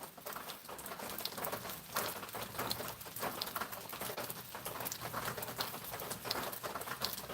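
Rain patters steadily on surfaces on a quiet rainy day in Georgia, soft and fairly faint, with scattered drips and occasional bird calls in the background.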